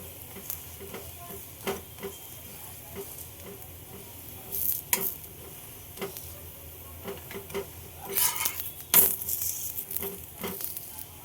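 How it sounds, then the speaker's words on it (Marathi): Onion thepla flatbread frying in plenty of oil on a pan, a steady close sizzle with scattered ticks and scraping taps of a spatula, moderately loud, no talking. "थेपले खरं तर भरपूर तेलावर भाजले जातात।"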